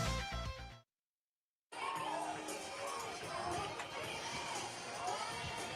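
A raucous crowd at a community softball state championship game in Shelbyville, Tennessee cheers and shouts steadily, with a brief silent gap near the start and voices mixed through the crowd noise.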